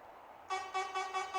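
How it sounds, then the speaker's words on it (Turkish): Renault truck horn in the Truck Simulator Ultimate mobile game, sounding four quick, loud, close toots in a row after a faint hum, with no talking. "kornada bir değişiklik yokmuş Renault'un kornasında"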